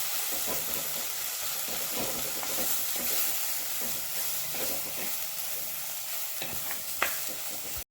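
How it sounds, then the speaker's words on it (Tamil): Onions, tomatoes and chili powder are sautéed in a pan for a crab curry, giving a steady sizzle broken by scraping stirs, with a sharp clink near the end. "கொஞ்சம் மிளகாத்தூள் பச்சை வாசனை போகிற வரைக்கும் வதக்கிக்கலாம்."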